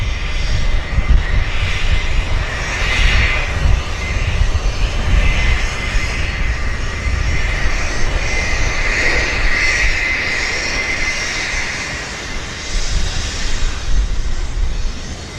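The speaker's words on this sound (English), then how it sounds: "Westjet's busting a move. Airspeed's alive, and she's rolling." WestJet airliner on its takeoff roll at Vancouver Airport, a loud, continuous engine roar that builds and holds for the whole stretch, heard from a distance with wind noise and no voices.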